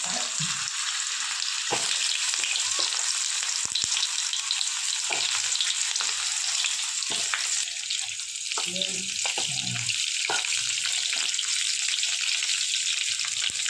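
Mustard seeds, cumin, asafoetida and stuffed spiny gourd frying in oil, a loud continuous hiss with intermittent stirring knocks and bursts of spluttering.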